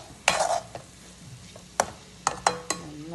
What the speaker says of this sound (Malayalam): ചേർത്ത് നന്നായി ഒന്ന് ഇളക്കി യോജിപ്പിക്കാം